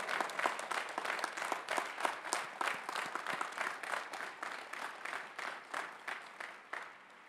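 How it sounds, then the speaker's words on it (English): Applause from a commencement audience honoring golden graduates at a university ceremony, steady dense clapping sustained throughout, moderately loud and a little distant. "Please give them a round of applause."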